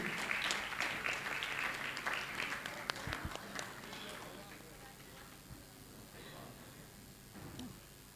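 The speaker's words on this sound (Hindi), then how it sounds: "ताली बजा के सम्मान करें आप सभी।" Audience applause at a Jain religious question-and-answer gathering at Gunayatan, Shikharji, Jharkhand, filling the first seconds densely and then thinning to scattered claps as the room settles.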